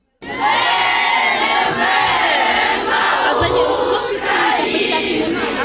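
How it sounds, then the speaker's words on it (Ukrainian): Parents and pupils at a rural school protest break into loud cheering and shouting, a dense crowd roar with raised voices that stays strong and close throughout. "Це рішення батьки та учні зустріли виконанням національного гімну та гучними оплесками."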